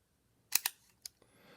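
A Leica iii f rangefinder camera's shutter release gives two sharp, close clicks in quick succession, then a fainter single click, near and crisp against near silence.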